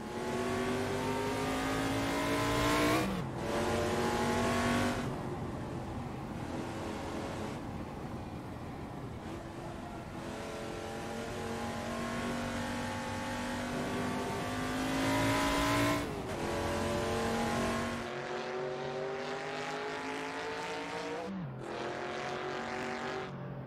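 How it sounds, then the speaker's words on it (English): Prototype race car engine revving in the Assetto Corsa racing game, classic Lola T70-era machine, rising and falling through gears with sharp upshifts, loud and continuous with no talk. "Motor sounds nice."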